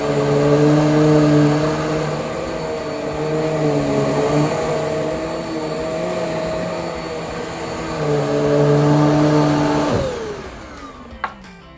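A Riccar R25 Premium Pet upright vacuum cleaner runs loudly with a steady motor whine for about ten seconds, then powers down, its pitch sliding away as the motor winds to a stop.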